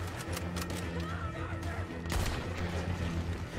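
Repeated gunshots in the game Red Dead Redemption 2, a handful of sharp reports with a heavier blast near the middle, over a steady low rumble.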